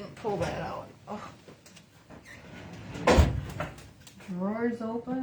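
Drawers slide open and bump shut, with a sharp knock near the middle, while people chat throughout in an indoor craft setting.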